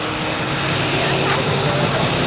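A Pitts Special aerobatic biplane of around 300 horsepower drones steadily at an airshow, a loud sustained engine roar with a voice talking over it.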